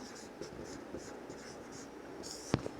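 Pen writing on paper in a quiet room during a Hindi-medium English reading lesson, faint soft scratching strokes spread through the clip, ending with a sharp louder tap or click near the end.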